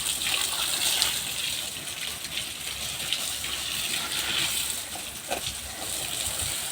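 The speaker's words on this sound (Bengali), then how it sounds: "দেখো জল দিচ্ছি, জলে এগুলো ভিজিয়ে দিচ্ছে।" Water pours in a continuous gushing stream onto soil to soak it, a fairly close, steady splashing flow with small surges and no talking.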